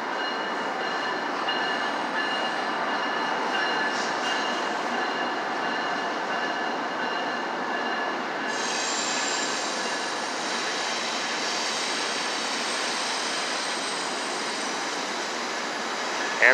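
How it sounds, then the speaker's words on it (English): Amtrak No. 5 passenger train pulling into the Sacramento, California station: a loud, continuous rumble of rolling railcars with a thin wheel squeal running throughout, and no voices. "Amtrak number 5 arriving at Sacramento Station."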